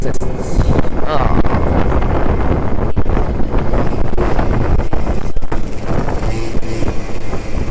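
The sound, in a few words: wind blowing against microphone while riding scooter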